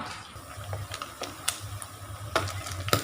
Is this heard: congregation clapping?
no